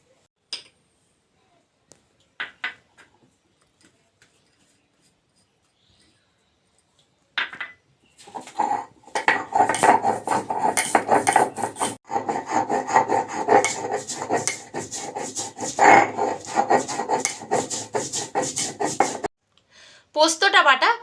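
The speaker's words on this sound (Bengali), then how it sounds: "আমি এক এক করে এই মশলাগুলো বেটে নেব। পোস্ত, কাঁচা লঙ্কা আর গোটা জিরে।" Poppy seeds, green chilli and cumin ground into paste on a stone, quiet at first with a few scrapes, then a long run of loud rhythmic rasping rubs, ending in a brief pause and resumed grinding.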